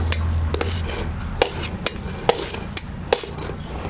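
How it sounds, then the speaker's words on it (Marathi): Roasted tomatoes and chillies go into a traditional mortar, heard as a series of sharp, close clinks and knocks of utensil on stone and metal over a faint low hum, about eight distinct taps. "आता आपण आहे ना हे कलबत्त्यात आपण हे सगळं भाजून घेतलेलं टमॅटो मिरची सगळं घालूया"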